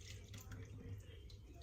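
Liquid poured into a skillet still holding pan drippings and browned bits from chicken fried steak, a steady, close pouring and splashing wash that runs for the whole stretch with no voices.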